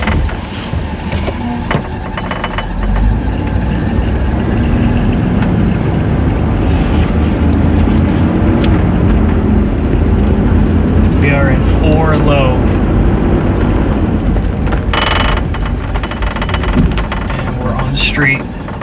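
A two-door Chevrolet Tahoe crawls over ice in four-wheel-drive low during a Texas winter storm, its engine droning and rumbling steadily close by throughout, with crunching and creaking road noise and a brief voice heard over it.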